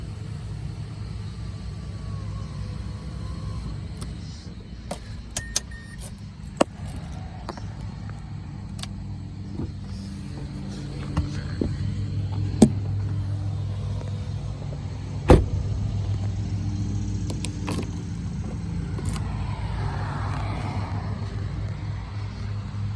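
A 2011 Mazda6 iSport engine runs steadily with a low, even rumble, accompanied by scattered clicks and knocks and a louder thump near the end.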